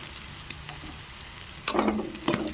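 Sliced strips of leftover roti go into a pan with cumin, starting from a quiet hiss that breaks into a sudden burst of sizzling and a couple of scraping stirs near the end.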